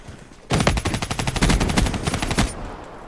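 A sustained burst of automatic gunfire in Call of Duty Black Ops III lasts about two seconds, a loud, rapid, evenly spaced stream of shots that starts abruptly and cuts off, with faint game ambience before and after.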